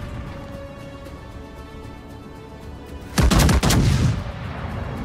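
A sudden, loud burst of booming explosions lasting about a second as an enemy ship blows up in a naval warship video game, over a steady low engine rumble.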